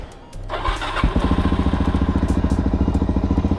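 A Suzuki DRZ supermoto motorcycle engine cranks briefly, then catches and settles into a loud, close, steady rapid idle thump, noticeably louder than a Honda Grom.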